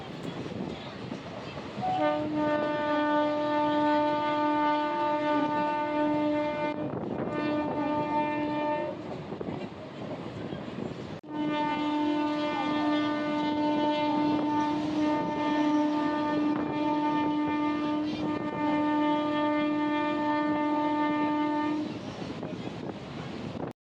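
A crowded passenger train rumbles along the tracks with a loud, steady roar, and its horn blares in two long sustained blasts separated by a short break.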